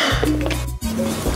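A metal lid set onto a cooking pot gives a brief clink and scrape over a steady kitchen hum, close by.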